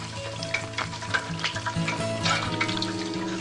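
Pieces of chicken sizzle and crackle in hot frying oil, a loud, busy spatter with irregular pops close up and no talking.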